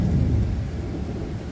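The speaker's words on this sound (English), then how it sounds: "Oh, Thunder, yeah, thunder." Thunder rolls in a deep, loud, continuous rumble during a thunderstorm in Dukinfield, UK, with rain hissing steadily underneath and no voices.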